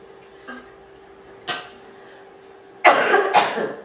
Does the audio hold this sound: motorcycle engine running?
no